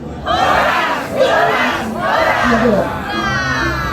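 Crowd of visitors at the Raja Siallagan stone chairs in Samosir shouts "Horas" in unison three times, each loud, drawn-out cry followed by a short gap, voices blending together.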